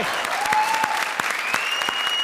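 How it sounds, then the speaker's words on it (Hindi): Studio audience applauding for Archana on a comedy show stage, a dense steady wash of many hands clapping throughout, fairly loud and continuous. "ठोको ताली अर्चना के नाम पे"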